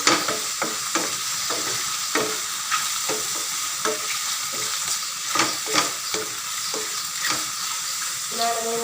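Chicken and button mushrooms sautéing in a pan, a steady sizzle and frying hiss broken by repeated stirring scrapes and clacks of a utensil at an irregular rhythm, close by, with no talk.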